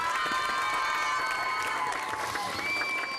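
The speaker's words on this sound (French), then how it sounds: "On applaudit encore." Cheering and clapping rise from a crowd at a Cameroonian comedy show, a continuous lively roar with shouts and whistles mixed in.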